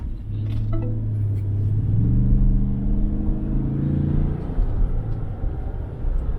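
A car accelerates on a spirited drive, its engine rumble rising in pitch and loudness, then settling, heard close from inside the vehicle with no talk.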